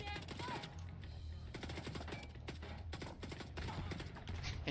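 Gunfire in The Division 2, a rapid series of sharp cracking shots in bursts, close and loud over a bed of game music.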